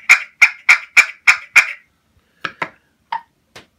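Push pin turkey call imitating a turkey: six sharp, evenly spaced yelps up close, then a pause and a few softer, irregular clucks and putts.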